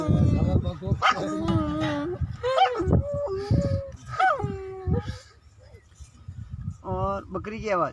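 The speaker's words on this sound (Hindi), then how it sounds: "वो बड़ा कुत्ता की आवाज सुने" A large dog barks and yips in quick, close bursts, with whimpering tones between them, punctuated by short pauses.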